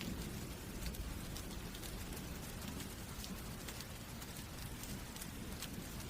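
Rain falls outside in a steady soft hiss with scattered drop taps, faint and continuous throughout.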